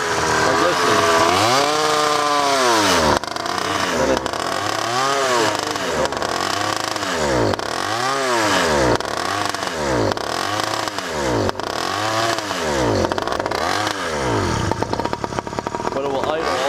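Motorized bicycle engine running rough at close range, loud two-stroke buzz surging up and down in repeated uneven waves instead of holding a steady note, with a voice talking over it.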